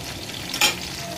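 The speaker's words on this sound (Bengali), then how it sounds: "এখানে বেসনের বড়াটাও ভাজতে দিয়ে দিয়েছি" Gram flour fritters and long beans fry in a wok. The oil gives a steady soft sizzle, with one brief brighter stirring scrape near the middle, and no voices.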